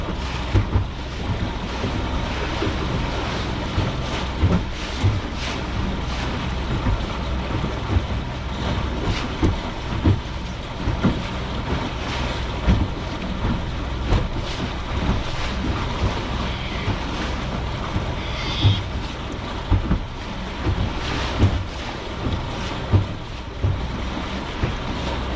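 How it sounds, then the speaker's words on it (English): Houseboat on a river pushed by waves and a headwind, with continuous wind buffeting the microphone, water slapping against the hull and a low engine rumble underneath. "Boat's getting pushed around a bit by the waves now."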